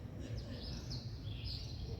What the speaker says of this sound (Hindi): और चिड़ियों की चहचहाहट कितनी मधुर लग रही है ना